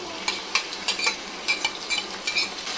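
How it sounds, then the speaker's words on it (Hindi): Marinated chicken stirred into softened onions in a pan for chicken BBQ rice, a spoon scraping in quick irregular strokes over a low sizzle, close and fairly loud with no voices. "अच्छे से इसे हम मिक्स करेंगे"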